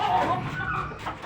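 A young three-month-old hen that has just started laying clucks close by in a short, busy burst of soft repeated calls.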